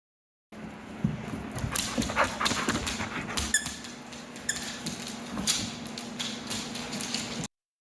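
A dog whimpers in a series of high, squeaky cries and whines, with light tapping and pattering around it, at a moderate distance and without talk.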